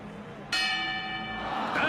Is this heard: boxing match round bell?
yes